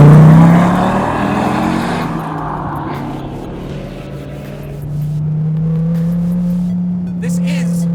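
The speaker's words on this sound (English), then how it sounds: "The sound is great. It still has a 10-cylinder." A powerful Dodge Viper ten-cylinder engine revs and then settles into a deep, steady drone, loud and close, with some tire and road noise.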